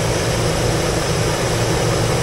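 A 2004 Cadillac Escalade engine runs steadily at idle, a loud, even, continuous rumble with no talking over it.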